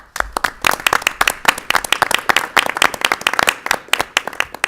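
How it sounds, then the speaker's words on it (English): An audience at a school board of education meeting breaks into steady, dense applause, many hands clapping close and loud for several seconds without pause. "Give them a round of applause."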